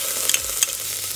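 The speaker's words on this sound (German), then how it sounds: "Während dessen hier das Tomatenmark mit angedünstet wird." Tomato paste sautéing in a pan with onions and garlic for a homemade Italian sauce from fresh tomatoes, a steady close sizzle with a couple of brief stirring clicks, no voices.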